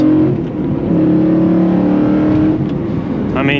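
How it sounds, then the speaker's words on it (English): A BMW E92 M3 spec car's engine revs loudly and steadily from inside while driving, holding a raspy high-revving tone before a brief gear change and pickup at the end. "you can't be mad at the way that this car sounds"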